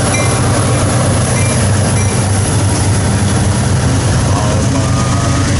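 A westbound manifest freight train led by an SD70 locomotive roars past up close, with loud, dense, continuous rumble and rail noise for the whole stretch.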